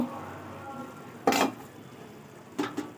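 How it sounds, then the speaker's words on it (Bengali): A pot lid is lifted off a pot of tomato chutney simmering on the stove, giving two short metallic clinks and scrapes, one near the middle and one toward the end, over a soft background hum. "এবার ঢাকনাটা খুলে দেখব"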